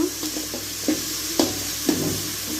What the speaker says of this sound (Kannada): ಈರುಳ್ಳಿ ಚೆನ್ನಾಗಿ ಕೆಂಪಗೆ ಬೇಯಬೇಕು.